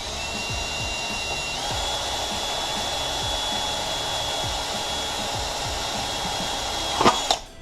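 A power drill bores a hole for a boost gauge vent pod in a Mk6 GTI, a steady close whine running for several seconds, its pitch rising slightly, then a brief louder clatter at the end.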